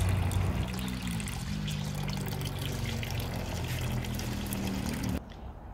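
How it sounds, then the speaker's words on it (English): Apple cider dribbles out of a tightened cider press as a steady continuous trickle and pour, close and fairly loud, stopping abruptly near the end. "the press can continue to be tightened down until no more cider comes out"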